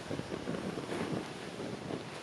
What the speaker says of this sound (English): We're getting some wind.